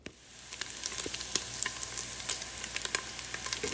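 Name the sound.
chopped bacon frying in a pot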